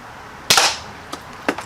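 An Umarex Buck Mark air pistol fires a Sig Sauer match pellet: one sharp, loud, close crack followed by two fainter snapping impacts, with no talk.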